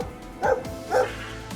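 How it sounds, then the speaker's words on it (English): A boxer dog barks twice at an intruder, two loud close woofs about half a second apart, followed by a faint short whimper. "the canine comes out barking and catching him off guard"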